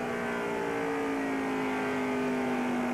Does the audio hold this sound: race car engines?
yes